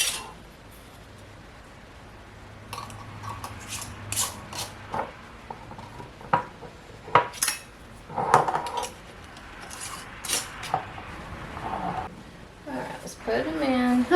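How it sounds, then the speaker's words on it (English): Glass canning jars knock and clink as they are set one by one into a metal canner, scattered sharp clatters over a low background, with a person talking between the sounds. "we're gonna put these in the canner here."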